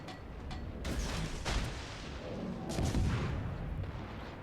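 Naval guns fire in the World of Warships naval battle game: a few deep booms and blasts roll out one after another at moderate distance, with no voices.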